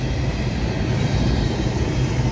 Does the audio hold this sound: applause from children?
no